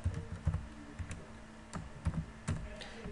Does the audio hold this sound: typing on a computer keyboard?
yes